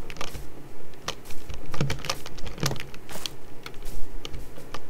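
Rapid, uneven clicking of keys on a computer keyboard, close and fairly loud, continuing steadily for several seconds with no voices.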